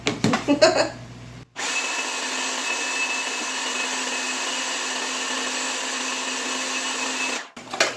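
A kitchen appliance motor roars into a steady, even whir for about six seconds, then cuts off abruptly; some clatter and handling noise come just before.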